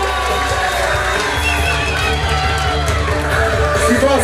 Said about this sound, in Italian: Bel applauso!